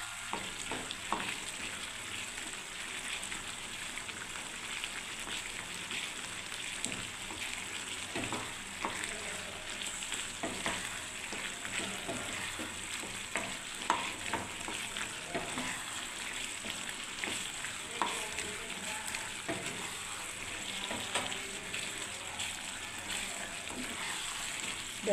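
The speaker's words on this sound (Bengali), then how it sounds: "দেখুন এবারে আমি নাড়তে থাকবো বন্ধুরা পোস্তটা দিয়ে, পরে একদম জলটা যাতে টেনে যায়" Ridge gourd, potato and poppy seed paste frying and being stirred in a pan, a continuous close sizzle with scraping clicks of the spoon throughout.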